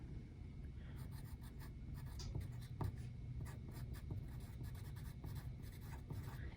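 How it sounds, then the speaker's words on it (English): A pencil scratches steadily across paper while a name is written, with short strokes and small pauses in a quiet room. "let's write your name on the paper at the bottom."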